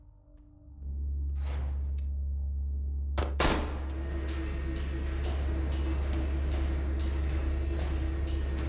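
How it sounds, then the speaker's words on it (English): A single heavy blast from a grenade launcher in the game Signalis cracks out midway over a steady, low droning ambience, followed by a string of faint, evenly spaced clicks. "We're using the grenade launcher."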